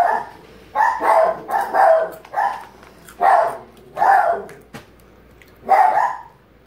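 Several dogs bark in a yard, loud and close, with repeated bursts of barking spread over several seconds separated by short quiet gaps; no talking.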